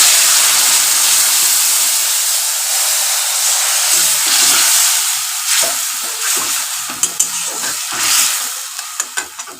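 A hot pan with chili powder hisses loudly as water is poured in, a sharp steady sizzle that gradually breaks into bubbling pops and crackles as it settles, heard alone and close.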